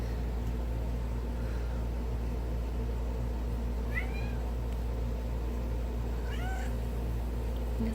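A house cat meows loudly twice, short rising calls around the fourth and sixth-to-seventh seconds, heard close up over a steady low indoor hum with no talking.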